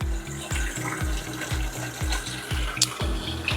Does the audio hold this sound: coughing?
no